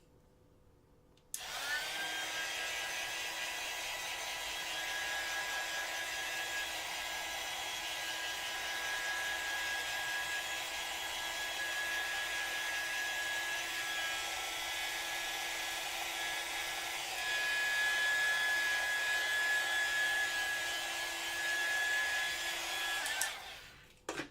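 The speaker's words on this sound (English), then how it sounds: "I'm going to use my heat gun to dry this" A heat gun drying paint runs in one long, steady, close whir with a thin whine on top, starting abruptly, holding evenly for over twenty seconds and cutting off sharply at the end; no voices.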